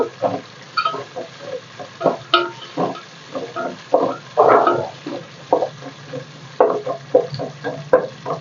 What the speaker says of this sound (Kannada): ಸ್ವಲ್ಪ ಈರುಳ್ಳಿ ಚೆನ್ನಾಗಿ ಫ್ರೈ ಆಗಲಿ